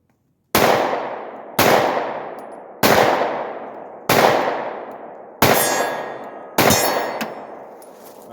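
Six sharp .40 caliber shots from a Glock 22 pistol fired one-handed, spaced about a second apart, each a loud close crack with a ringing metallic tail.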